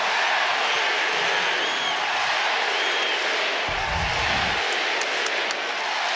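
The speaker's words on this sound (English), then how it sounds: "Listen to this crowd." A packed basketball arena crowd of over thirteen thousand at a Perth Wildcats versus Adelaide 36ers NBL game keeps up a loud, steady roar of cheering, with a brief low rumble midway.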